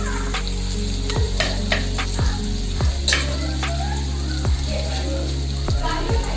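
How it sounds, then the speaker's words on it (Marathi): Chopped onion frying in a pan while being browned for a stuffed eggplant bharit with dried shrimp, a steady close sizzle with a few light metallic clicks from a utensil stirring throughout. "हे बघा कांदा टाकला ब्राऊन ठेवूया"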